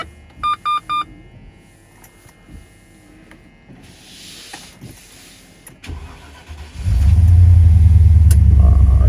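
A Range Rover cold-starts on a chilly morning: a few electronic beeps, then quiet rustling before the engine cranks and catches into a loud, steady idle that fills the rest.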